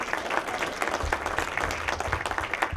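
Applause from a convention panel audience, a dense patter of many hands clapping at close-to-moderate distance, steady for about three seconds.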